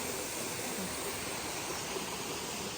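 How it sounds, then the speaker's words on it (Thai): A waterfall in a forest along the border makes a steady, broadband rushing hiss with no breaks, heard from a moderate distance at a constant, fairly soft level. "น้ำตกสวยนะ ช่วงนี้น้ำตกสวยมาก"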